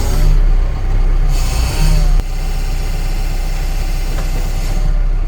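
Engine of a Caterpillar 428F backhoe loader running close by at a steady idle, a deep continuous rumble with a brief louder surge before settling into an even, vibrating hum.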